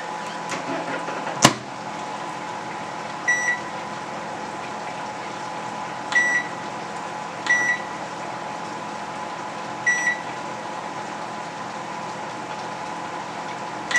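A microwave oven cooking soup croutons hums steadily, with a sharp click near the start and short beeps repeating every few seconds over the drone.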